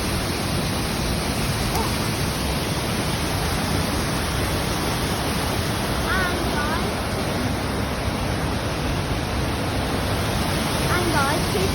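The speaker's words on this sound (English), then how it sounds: "Snowdon Waterfall." Snowdon waterfall in North Wales roars as a steady, dense wash of rushing water, loud and unbroken throughout, with a few faint bird chirps barely cutting through.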